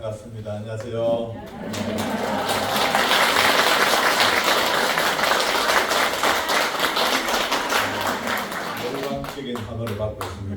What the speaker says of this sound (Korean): 열광적인 환호를 받고 있습니다